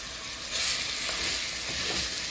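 Meat sauce seasoned with garlic, sazon and adobo frying in a pan, giving a loud, dense, continuous sizzle with no voices.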